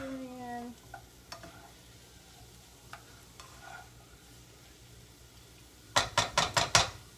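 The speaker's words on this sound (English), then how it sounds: "I'm just stirring all the seasoning in." Seasoning stirred into a squash and zucchini stir fry in a pan: sparse, soft scrapes and taps at first, then a quick run of five or six loud, close scraping strokes near the end, with no talking.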